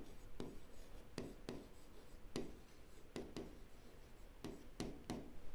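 Pen strokes on paper as answers to a Class 11 maths exercise are written out in a new colour, a series of short sharp scratchy taps spaced irregularly, close and fairly quiet with no talking.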